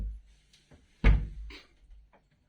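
A door is fitted back onto its hinges after a squeak repair, giving one sharp loud wooden thud followed by a few softer knocks and scrapes nearby, with no talking.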